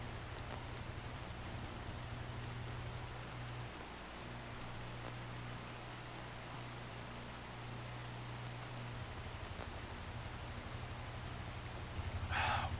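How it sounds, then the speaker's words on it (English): Steady rainfall in the Minecraft video game, a continuous even hiss of falling drops with a low game ambience hum underneath, holding at a constant level throughout with no talk. "I hate driving in the rain."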